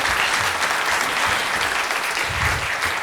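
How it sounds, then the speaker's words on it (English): An audience applauds at the close of a conference panel, dense and steady clapping filling the room without a break for several seconds. "Let's give a loud applause for this."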